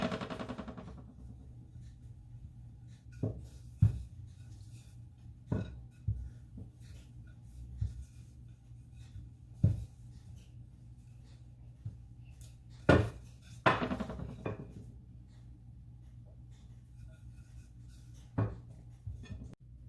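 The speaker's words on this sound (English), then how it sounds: "we're going to roll this second crust out to the same consistency, or rather the same diameter as the one on the bottom" Pie crust dough being rolled out with a rolling pin for a top crust: soft low rumbling passes broken by scattered sharp knocks and taps of the pin on the board, close and fairly quiet, with no talking.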